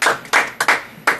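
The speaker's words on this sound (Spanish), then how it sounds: "vamos a otro aplauso para ellos." A few separate bursts of hand clapping on a Boca Juniors fan radio show, five short claps in an uneven rhythm, close and moderately loud, with no talking.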